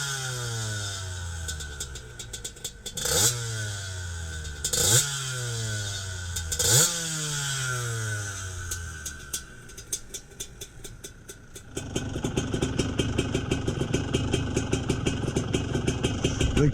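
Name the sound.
GasGas motorcycle engine running after carburetor adjustment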